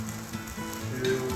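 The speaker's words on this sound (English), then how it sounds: "Alright, now we're going to add onion, garlic, peppers" Onion, garlic and peppers sizzling in a pan on a wood-burning stove, a loud, close, continuous crackling fry with a faint stir partway through and no talking.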